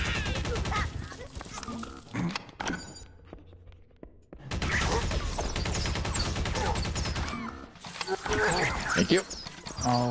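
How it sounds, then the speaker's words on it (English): Blunderbuss blasts and other weapon fire in the first-person shooter Cursed Halo, loud dense bursts of gunshots with a short lull in the middle, mixed with game sound and talk. "I hear a blunderbuss."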